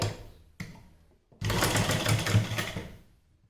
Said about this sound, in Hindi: यहाँ पर हम इस तरह से सिलाई लगा लेंगे।